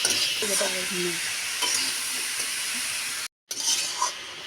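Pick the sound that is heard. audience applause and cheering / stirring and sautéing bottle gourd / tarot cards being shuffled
stirring and sautéing bottle gourd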